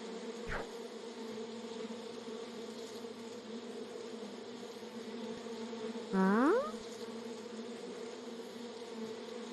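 Cartoon bees buzzing in the Sago Mini School bugs game: a steady, faint droning hum throughout, broken by a short rising chirpy sound effect near the end.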